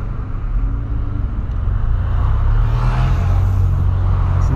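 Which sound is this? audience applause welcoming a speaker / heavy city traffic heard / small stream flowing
heavy city traffic heard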